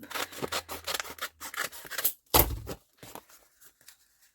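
Scissors snip through a paper envelope while a botanical journal cover is trimmed, giving a close, sharp cut after a stretch of soft rustling and handling noises, then quieter fumbling.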